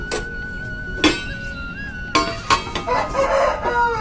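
Hens cluck while a rooster crows at a rural home where the chickens are being fed. The calls are moderately close and repeat in short bursts over steady background noise, with no talk.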